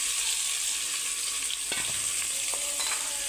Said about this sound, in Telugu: ఇప్పుడు ఇందులోకి ఉల్లిపాయ ముక్కలు వేసుకుందాం.